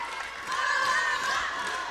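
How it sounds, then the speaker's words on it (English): The Mohawk volleyball team does its cheer at a homecoming volleyball match, with a faint chorus of distant voices over gym crowd noise. "Mohawk team doing their cheer in front of us"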